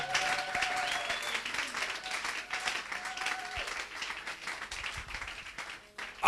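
A church congregation applauding, with sustained dense clapping from many hands under a faint voice, continuing steadily before fading near the end.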